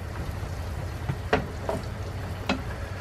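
Onions in a pan sizzling steadily as beef stock goes in and a spoon stirs, with a few soft scraping knocks over the constant fry.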